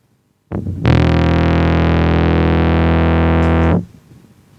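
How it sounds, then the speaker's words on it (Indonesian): A bass guitar played through a fuzz distortion effect holds one loud, thick, buzzing note with dense harmonics for about three seconds, then cuts off abruptly. "efek fuzz namanya ya. Efek fuzz itu adalah termasuk ke dalam kategori distorsi ya, distorsi."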